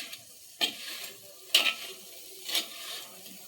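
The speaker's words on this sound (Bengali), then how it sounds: "এইভাবে ভালোভাবে লালচে লালচে করে ভেজে নেব।" Banana pakoras frying in a clay pot over a low flame, a quiet steady sizzle punctuated by three distinct scraping stirs, up close with no talking.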